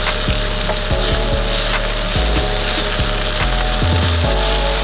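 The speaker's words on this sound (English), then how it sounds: "This as well is a quick saute." Onion being quickly sautéed in a hot pan for Korean japchae glass noodles, a loud dense sizzle held throughout, with a low droning hum and repeated stepping tones underneath, no speech.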